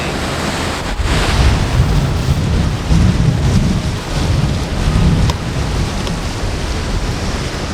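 Ocean waves surge and break on the Oregon coast, a loud, continuous roar of surf with heavier swells crashing at intervals and steady wind noise throughout.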